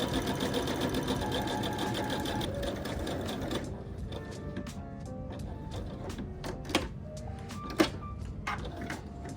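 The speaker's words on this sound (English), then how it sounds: "I'm using my stretch twin needle to stitch the raglan edge 1 centimeter away from the fold" Sewing machine running a stretch twin needle along a folded raglan edge of a long-sleeve top, a close, steady mechanical hum that slows and stops, leaving soft clicks and fabric handling.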